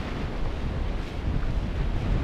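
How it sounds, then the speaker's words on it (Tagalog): Big ocean waves crash on Sibalat Beach in Magsaysay, a continuous roaring surf mixed with heavy wind buffeting the microphone, loud and unbroken with no voices. "Laki ng alon."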